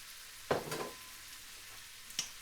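Onions and mushrooms fry in a pan with a soft steady sizzle, broken by a couple of sharp clatters from stirring or ingredients dropping in; quiet and close, with no voices.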